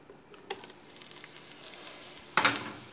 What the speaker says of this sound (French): Donc je vais ajouter l'oignon